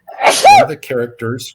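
A single sharp sneeze bursts out, close and loud, amid conversational speech on a podcast, with someone talking before and after it.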